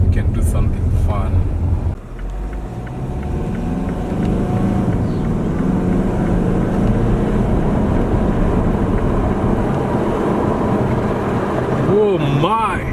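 A 2015 Mazda Atenza diesel engine roars steadily under heavy acceleration, a dense rumbling drone that rises in intensity and stays close throughout.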